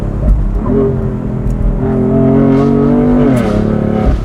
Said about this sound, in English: And now a gingerly drive through Cliche Corner.